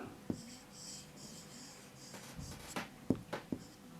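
A pen writes a word by hand on paper: faint, close scratchy strokes in short bursts, with a few soft taps and quiet background noise.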